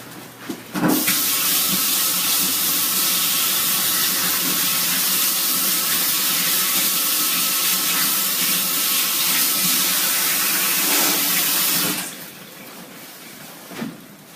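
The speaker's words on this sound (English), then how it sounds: "I'm going to rinse my hands really quick." A kitchen tap runs as hands are rinsed under it, giving a steady, loud, close rush of water that lasts about eleven seconds before cutting off.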